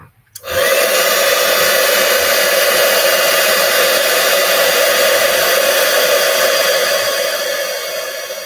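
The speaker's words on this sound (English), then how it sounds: "now I am going to heat emboss that." A heat embossing tool blows hot air over paper-crafting embossing powder, a steady loud whirring roar that starts abruptly and continues without a break, easing slightly at the end.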